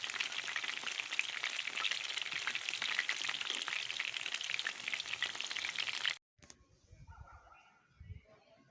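Chicken wings deep fry in oil over low heat, making a loud, dense, continuous crackling sizzle for several seconds before it cuts off abruptly to quieter, scattered sounds.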